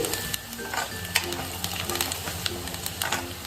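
Red chili powder, turmeric and salt being stirred into frying greens in a pan, a low sizzle with repeated spatula scrapes and clinks close by, no voices.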